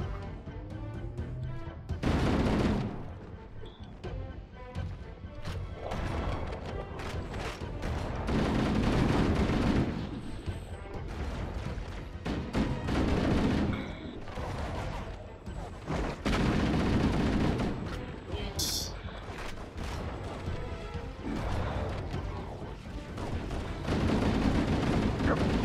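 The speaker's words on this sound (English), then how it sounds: "Stop shooting me with my favorite weapon." Weapon fire rattles through a Halo video game firefight in the Library level, with dense bursts and booming shots repeating over background game noise across the whole stretch.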